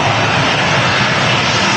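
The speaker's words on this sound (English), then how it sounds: "2E76 about to land?" A Boeing 767 coming in to land at Manchester Airport, its engines a loud, steady broadband roar filling the short stretch without pause and with no voices.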